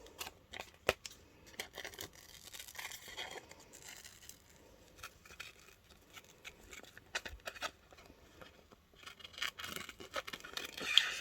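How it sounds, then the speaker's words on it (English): Scissors snip through fabric as a shape is cut out for fabric art, giving close, quiet, irregular cuts and rustling with no voices. "I'm going to cut out a shape."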